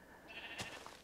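A single Minecraft sheep bleats once, a short, nasal, mid-distance bleat standing alone over a faint background hum.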